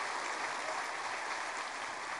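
A church congregation applauds in a continuous, even wash of distant clapping, fairly faint, with no voices standing out.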